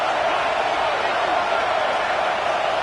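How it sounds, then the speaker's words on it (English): A home crowd in an NCAA football video game roars in a continuous dense wash of cheering, loud and sustained throughout. "how nice is it to have the home crowd going absolutely bananas?"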